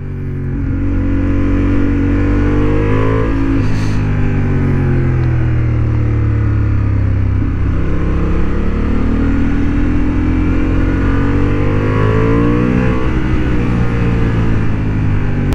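A Honda Hornet 750 motorcycle accelerates hard on a racing track, its loud, close engine note climbing repeatedly and dropping at each gear shift.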